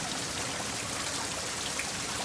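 Rain falling on a rooftop on a Sunday outing, a soft, steady hiss of dense droplets pattering evenly and quietly throughout, with no voices.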